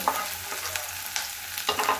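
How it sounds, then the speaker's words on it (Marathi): Chopped ginger and garlic fry in hot oil in a wok for a Schezwan chutney, giving a steady close sizzle with a few scraping stirs and no talk. "त्याच कढईमध्ये थोडंसं तेल गरम केलं आणि अद्रक आणि लसूणचं बारीक चॉप करून त्याच्यामध्ये टाकून द्यायचे"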